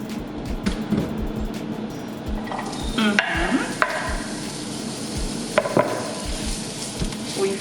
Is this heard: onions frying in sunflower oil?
yes